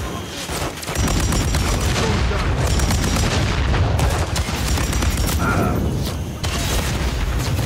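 Grenade blast and surrounding combat in Call of Duty MWIII, a heavy, continuous roar of explosions and gunfire that stays loud and dense throughout, with faint voices mixed beneath.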